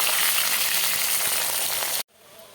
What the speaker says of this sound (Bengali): পেঁয়াজটা খুব ভালো করে ভাজতে হবে।